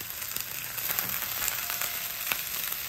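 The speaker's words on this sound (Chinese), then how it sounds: "用小火慢煎，稍微煎一下，不要煎到焦糊" A fish head frying slowly over low heat in a pan, with a steady close sizzle and scattered crackling pops and spits, no voices.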